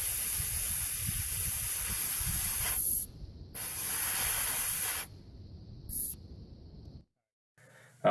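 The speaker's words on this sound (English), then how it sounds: "We're going to deflate this one down to 26 psi." Air hisses from an open tire valve as a tire on a Nissan or Infiniti is let down to 26 psi, a loud steady rush in several bursts that stop and restart, separated by brief quiet gaps.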